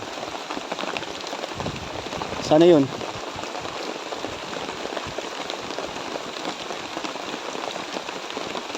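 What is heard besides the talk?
rain falling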